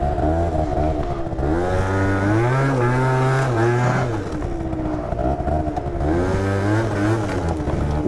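A motor scooter engine revs hard and holds high during a burnout, its pitch climbing, dropping and rising again in loud continuous waves that fill the whole stretch with no talk over it.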